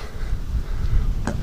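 Wind gusting across a Samsung Galaxy A9 2018 phone microphone outdoors on a sunny day, a continuous low rumbling buffet that swells and dips, with a brief sharper gust near the end.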